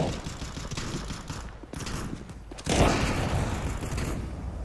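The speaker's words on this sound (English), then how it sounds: "Throwing flashbang. Deploying flashbang." A flashbang grenade bursts in an online multiplayer shooter game, a sudden loud blast partway through that leaves a sustained ringing hiss, heard amid ongoing gunfire and game noise.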